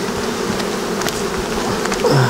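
Honeybees swarm and buzz around an open hive with two honey supers while capped frames are pulled out, a dense continuous drone with individual bees zipping past close by.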